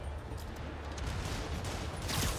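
Rockets fire in a Spider-Man video game, a dense, continuous barrage of rumbling blasts and bursts that swells slightly toward the end.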